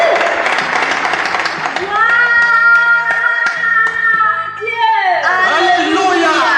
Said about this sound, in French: Applaudissons tous ensemble pour le Seigneur.